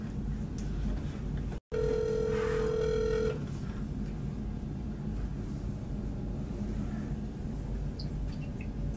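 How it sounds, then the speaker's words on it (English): An outgoing phone call ringing to a contact saved as a crush: a single steady ringback tone of about a second and a half, then faint background hum, with no talking. "Oh, he's calling his crush."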